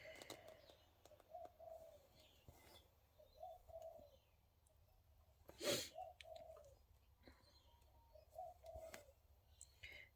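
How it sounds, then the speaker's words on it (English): Soft, repeated low coos from a diamond dove recur every second or so outdoors, with faint chirps and a brief rustling burst partway through. "That is a diamond dove making that noise."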